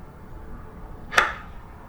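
A single sharp whooshing strike of a golf club hitting a ball rings out in an indoor golf simulator, standing alone over a quiet low background.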